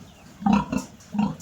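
A sow with her newborn piglets grunts in short, low bursts, three close snorts spread across a quiet pen with faint background noise.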